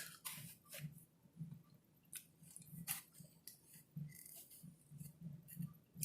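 A miniature hot dog is cut in a faint, close series of soft, repeated snipping and squishing cuts against a quiet background.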